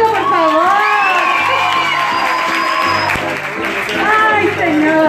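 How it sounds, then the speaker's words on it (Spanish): Applause and cheering from a church Sunday school audience in Quinindé, Ecuador, with whoops and children's shouts running steadily for several seconds while voices call out over the noise. "¡Un aplauso, por favor!"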